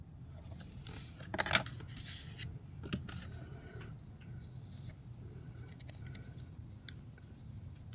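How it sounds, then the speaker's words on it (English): Scissors snip a tiny triangle notch into card, a brief sharp cut near the start followed by a few faint clicks and rustles against a quiet, steady room hum. "I just chose to use my scissors and cut a tiny triangle"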